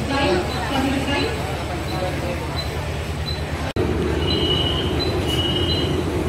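A Mumbai local train pulls into a busy station platform with a loud continuous rumble and wheel squeal. Voices and crowd noise carry over it, and a sharp click cuts in partway through.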